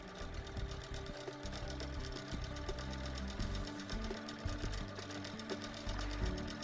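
An HQ Sixteen longarm quilting machine stitches a quilt, giving a steady, loud mechanical hum with a fast repeating needle rhythm that continues unbroken throughout.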